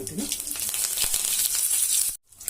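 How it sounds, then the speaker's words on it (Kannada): Mustard seeds, cumin and curry leaves fry in a few spoonfuls of oil in a pan for okra gojju, giving a loud, close sizzle with crackling bursts before it cuts out briefly near the end. "ಸಾಸಿವೆ ಹಾಕೋಣ ಜೀರಿಗೆ ಹಾಕೊಂಡಿರ್ತೀನಿ ಇದು ಕರಿಬೇವು"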